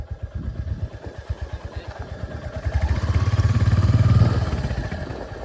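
A motorcycle engine runs nearby with a rapid, even thumping that swells louder toward the middle and then eases slightly, with no one speaking.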